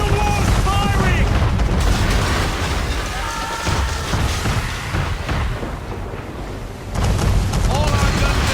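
Man-of-war cannon fire in the Assassin's Creed III naval battle, heavy booms and blasts rumbling through a dense, continuous battle din with voices talking over it.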